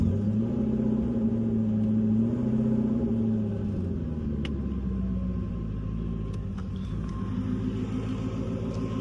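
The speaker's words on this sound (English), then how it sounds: "The V8 and the single turbo are great, but being able to shift your own gears, no lift shift this car, the noises it makes" A 2023-style Ford Mustang 5.0 V8 with a single turbo, around 800 wheel horsepower and a manual stick shift, drones steadily while driving, a loud low rumble with subtle pitch shifts and no talking.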